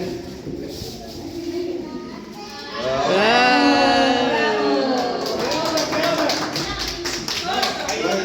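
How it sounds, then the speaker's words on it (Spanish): Applause and clapping from a crowd at a Quichua evangelical church service, steady and fairly loud, with voices and singing-like tones rising over it partway through. "le vamos a dar fuertes palmas, fuertes palmas"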